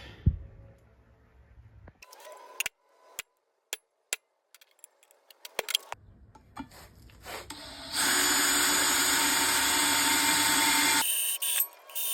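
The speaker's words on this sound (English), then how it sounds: "Time for the center punch" A series of sharp, isolated metallic snaps of a center punch marking a car brake drum or rotor for redrilling the bolt pattern, followed by a steady power-tool whir.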